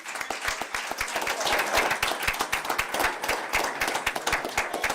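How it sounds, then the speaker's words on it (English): A round of applause for students at a high school board meeting: dense, steady clapping from a roomful of people that carries evenly through the whole stretch. "let's give a round of applause for our students."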